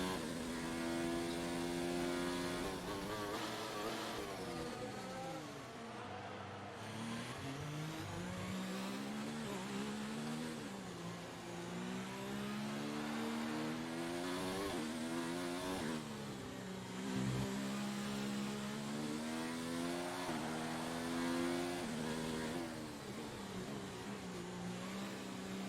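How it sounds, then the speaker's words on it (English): Race car engine in the F1 2019 video game howls on the final lap of a Grand Prix, a loud continuous high-pitched whine rising and falling with repeated upshifts and downshifts, heard alone. "I'll let you listen to the engine and everything"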